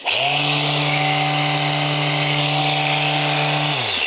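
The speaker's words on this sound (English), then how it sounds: "it is only a 1-speed sander. You can't change the speed of it. But for any DIY project, it does sound quite capable." A Ryobi single-speed power sander spins up to a steady high whine with a strong low hum, runs evenly for several seconds close up, then winds down at the end.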